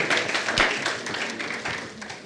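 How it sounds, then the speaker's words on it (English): An audience at a City of Tampa anniversary ceremony gives a round of applause: a soft, steady patter of many hands, fairly distant and quiet, fading slightly toward the end. "Let's give him another round of applause."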